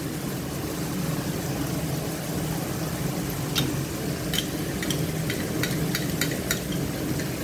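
Masala with cream sizzles steadily in a pan while being stirred for an egg and chickpea curry, with a low bubbling hiss underneath and a few sharp spoon clicks against the pan toward the end.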